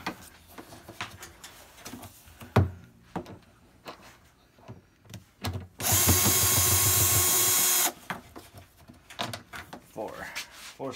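A power drill whirs steadily for about two seconds while backing screws out of a Samsung top-load washer drum, set among scattered clicks and handling clatter of the screws and parts.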